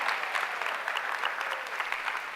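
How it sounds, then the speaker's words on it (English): Audience applause at a live presentation, a dense steady wash of clapping from many hands filling the room for a couple of seconds. "I appreciate the applause,"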